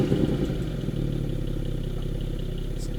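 A 2022 Porsche 718 Cayman GTS 4.0 with a modified exhaust idles steadily up close, a deep, even rumble with a faint mechanical clatter and no voices.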